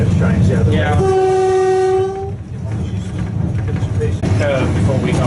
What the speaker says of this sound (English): you're just going to blast on the horn